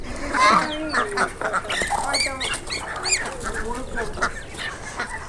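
Roosters and hens on a small backyard duck and poultry farm cluck and call repeatedly at close range, overlapping in a busy, continuous flock chatter.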